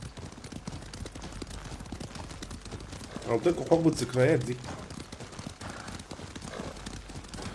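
Hooves clip-clop steadily at a riding pace in a samurai-era video game, and a louder cluster of hoofbeats surges briefly midway. Speech and background ambience run underneath.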